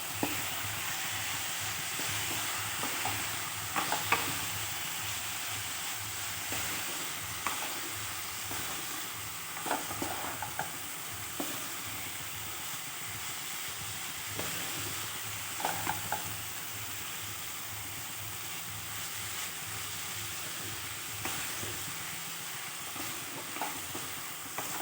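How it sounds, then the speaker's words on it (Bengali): Cabbage fries in a pan with ground garam masala for a vegetarian dish, a steady close sizzle broken by repeated scrapes and stirring clatters throughout, with no talking. "কপিটাও ভালোভাবে ভাজা হয়ে গেছে"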